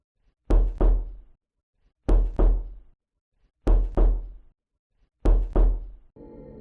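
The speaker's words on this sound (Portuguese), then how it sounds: "finalmente efetuou as 8 batidas na porta" A run of loud, close knocks on a door, falling in pairs with short gaps between groups, eight strikes in all, followed by a low rumbling tone at the end.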